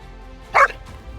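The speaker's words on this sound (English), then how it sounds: "Now, an unexpected bark." A single short dog bark rings out once, fairly close, over a quiet background, followed by faint low rustling.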